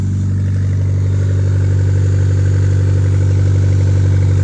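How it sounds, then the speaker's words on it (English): An engine idles steadily and loudly, its low rumble accompanied by a rapid ticking, puffing flutter like air escaping from a leaky exhaust. "Looks like there's a little exhaust leak, but hey, she's running."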